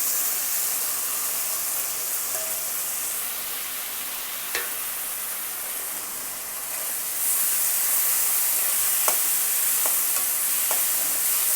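Tomatoes fry in a pan, a continuous bright sizzle that grows louder partway through, broken by a few sharp clicks and scrapes as they are stirred, close up and without voices.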